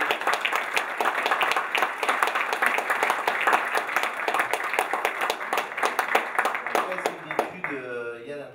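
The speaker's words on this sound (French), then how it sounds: "on peut l'applaudir." Audience applause at a round-table session of a French conference, a dense steady burst of many hands clapping for about seven seconds before fading, with a voice starting to speak at the very end.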